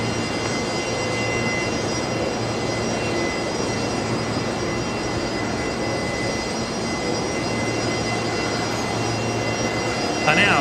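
Air Calin Airbus A320neo jet pushing back at Brisbane Airport, a steady broadband engine drone with a low hum, continuous and moderately distant, no voices over it.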